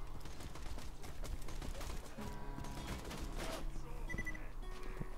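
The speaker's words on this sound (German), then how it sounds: "die andere Waffe nehmen und alle abknallen" Rapid gunfire from a switched weapon in Borderlands 2, dense overlapping shots and mechanical clatter running continuously at steady loudness, with tonal game effects layered in toward the end.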